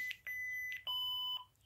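Electronic beeps from a Korbanth MPP neopixel lightsaber entering its volume menu: a short series of clear, high tones, a few quick chirps followed by a longer sustained beep, close and alone.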